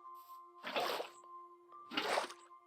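Two separate liquid splashes from a water bucket in Minecraft, each a short wet slosh about a second apart, heard over a steady soft tonal hum.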